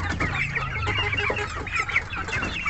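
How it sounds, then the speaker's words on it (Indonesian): A small flock of young Gaok chickens, about two months old, cluck and chatter close by in a busy, overlapping stream of short calls with no talking. "ini dia remaja-remaja ayam gaok"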